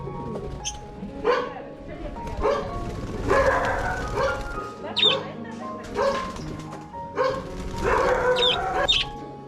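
Dogs bark in short bursts close by, mixed with chickens clucking and a rooster crowing, while people talk over the yard noise near pigeon and lovebird cages in Wayanad.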